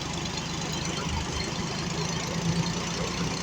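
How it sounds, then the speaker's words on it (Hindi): A John Deere 5205 tractor drives a wheat thresher, its engine a steady, loud, close diesel drone with knocking beats and rumbling machinery throughout. "थ्रेसर पे चल रहा है जॉन डियर 5205 दोस्तों।"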